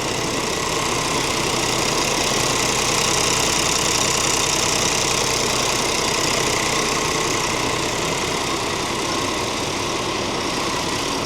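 A Scania truck's wet sleeve diesel engine runs steadily in a workshop, a loud, continuous knocking drone that holds an even rhythm from start to finish with no talking.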